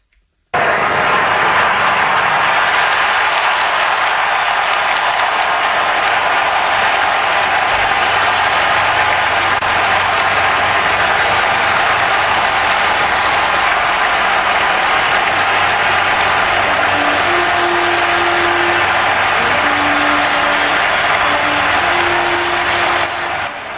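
A large crowd in St. Peter's Square roars and applauds as Pope Leo XIV appears to greet them, a dense, continuous wash of cheering and clapping that stays loud and steady throughout, with faint whistles or tones near the end.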